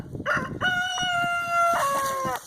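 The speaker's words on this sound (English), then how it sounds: "Chickens are all excited about it." A rooster crows loudly and close by, a long drawn-out call rising and holding, with a little clucking around it.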